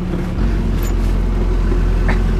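A Sherp all-terrain vehicle's engine runs steadily nearby in Khanty-Mansiysk, a constant low rumble that holds from start to finish with no voices over it.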